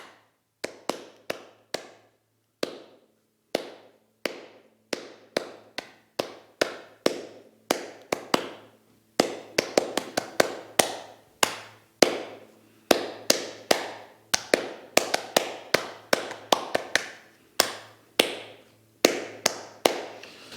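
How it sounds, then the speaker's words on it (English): Hands clap out the rhythm of a guitar motive from Ralph Towner's 'Anthem', with sharp, close claps in uneven groups and short pauses, varying the pattern throughout, alone without talk. "So if I just spend a few moments just sort of clapping that out"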